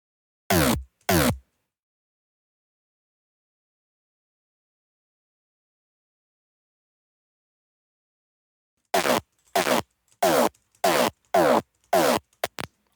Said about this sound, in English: And let's have a distortion type B.